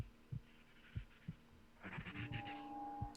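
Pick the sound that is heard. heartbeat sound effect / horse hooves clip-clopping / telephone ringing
heartbeat sound effect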